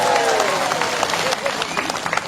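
A crowd applauds at a political rally in Arunachal, steady broadband clapping filling the whole span, with a voice briefly audible over it at the start.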